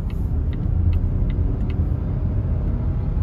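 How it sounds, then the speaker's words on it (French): A Volvo XC40 T4 2024 hybrid with a three-cylinder petrol engine accelerating under full throttle, heard from inside the cabin as a steady, loud low-pitched rumble and drone. "je vais mettre pied gaz sur l'accélérateur"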